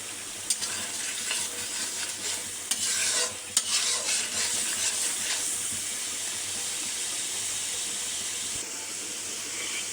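Spice masala frying with hilsa fish in oil in a pan for a bitter gourd curry, a steady loud sizzle and hiss with occasional stirring clicks throughout.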